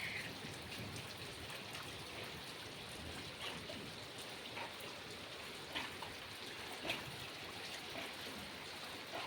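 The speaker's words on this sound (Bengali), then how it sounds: "প্রচণ্ড বৃষ্টি হচ্ছে" Heavy rain pours steadily during a storm, a dense even hiss of drops on surfaces with scattered louder drips, fairly faint and without voices.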